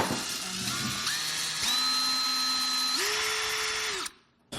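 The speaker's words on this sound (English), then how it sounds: "I then drilled a hole and secured it even more with a bolt, nut, and a washer" A power drill bores a hole in a plastic cover during a rear camera installation on a fifth-generation Toyota 4Runner, a steady close whine stepping up in pitch a few times before stopping abruptly.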